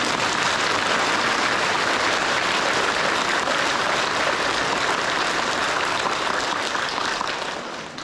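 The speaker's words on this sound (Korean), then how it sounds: "모두 수고하셨다고 큰 박수 부탁드립니다" Sustained applause from a large congregation at a Catholic Mass in a cathedral, dense and even for several seconds before starting to fade at the end.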